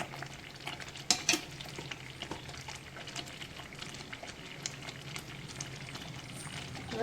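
Chettinad ukkarai, a moong dal sweet, being stirred in a pan with ghee, a soft continuous sizzle under repeated scraping strokes, with a couple of sharper clinks near the start.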